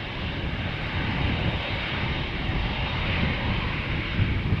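Steady broadband roar of a 14-year-old Japanese-registered airliner, JA11KZ, departing Amsterdam Schiphol, holding a constant loud level throughout with no voices.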